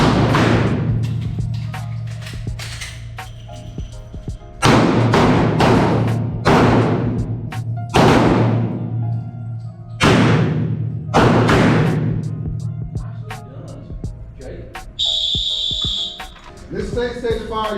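Handgun shots fired on a firearms instructor training range, a series of loud sharp reports in irregular bursts from several shooters, with a whistle near the end.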